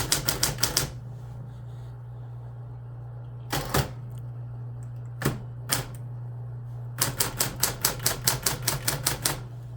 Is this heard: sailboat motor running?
no